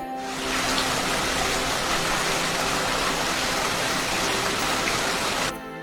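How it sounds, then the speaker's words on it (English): Rain sound effect with a dense, steady patter and hiss, loud and continuous for over five seconds, alone and with no voices, cutting off sharply at the end. "That's rain sound effect 2."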